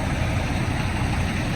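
A Kenworth T680 truck engine idles nearby with a steady, loud low rumble that holds constant with no talking.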